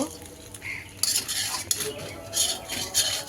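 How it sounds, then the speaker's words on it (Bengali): Pasta with carrot and chicken is stirred in a pan, giving scraping utensil strokes and metallic clinks over a faint sizzle, in repeated bursts at close range. "আমি পাস্তাটা রান্না করে নিয়েছি গাজর তারপর মুরগির সলিড যে মাংসগুলো আছে এগুলো দিয়ে সেটা রান্নাটা করে নিয়েছি"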